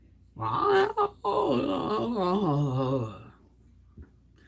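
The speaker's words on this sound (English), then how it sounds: "She's yawning again." A woman yawning: one long drawn-out groaning yawn that rises and falls for about three seconds, fairly close, followed by quiet.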